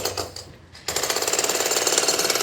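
Demolition drill breaking down a building during clearance work in Mughalsarai, a loud rapid hammering rattle that kicks in sharply after a brief pause and pounds on steadily.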